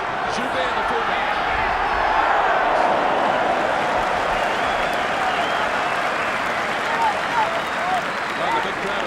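Big stadium crowd at a rugby test between New Zealand and a World XV in Wellington, a broad steady roar of cheering and applause throughout, with a commentator talking over it.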